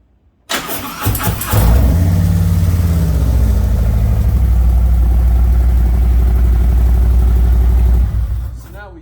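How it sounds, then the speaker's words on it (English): A Harley motorcycle engine cranks and catches after a brief starter whir, then settles into a loud, steady idle before cutting off near the end. "now I can start the engine."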